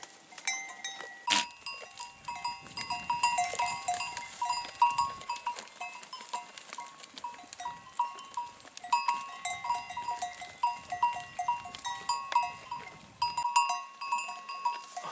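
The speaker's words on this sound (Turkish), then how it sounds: "Keçiler." A herd of goats in mountain pasture makes scattered bleats amid faint bells and a busy hum of flies, fairly distant and quiet with no talk.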